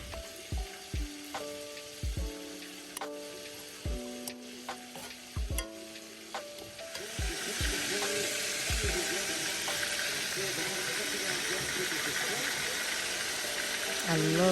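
Jackfruit nachos sizzle in a pan: a few seconds of clattering stirring and knocks give way to a loud, steady, hissing fry that continues to the end.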